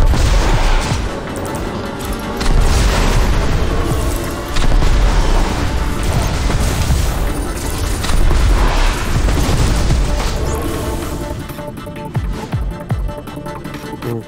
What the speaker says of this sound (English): Remember, the longer you lock, the more missiles you fire.